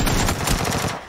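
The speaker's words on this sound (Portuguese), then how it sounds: "Dois noobs trocando tiro" Dense bursts of automatic gunfire from an online battle royale shooter on Xbox, loud and continuous over about a second.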